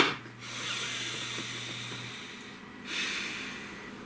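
Deep, slow breaths drawn in and let out close by, a long airy inhale and exhale repeated twice with a soft hiss, no talking over them.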